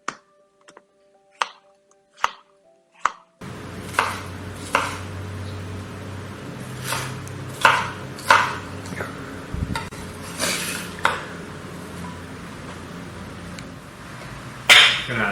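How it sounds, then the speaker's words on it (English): A knife chops and dices food on a board during cooking, sharp irregular knocks following a few isolated clicks, set against a low kitchen background. "I just like chopping it off, dicing,"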